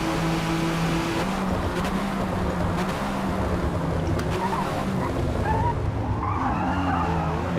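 Tires skid and squeal through a handbrake turn in a racing video game as a tuned car slides around a corner, steady and loud over a droning engine for the whole stretch, with no talk.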